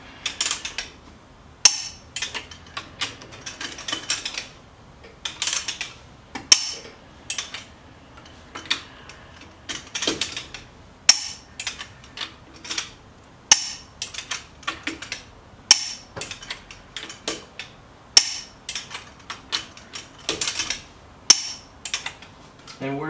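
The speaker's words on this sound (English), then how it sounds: "again, we're torquing this to 100 foot-pounds." A torque wrench tightens the lug nuts on a C7 Corvette Stingray Z51 wheel to 100 foot-pounds, giving sharp, repeated metallic clicks in short, evenly spaced bursts through the clip. The clicks are close and crisp, with faint background noise between them.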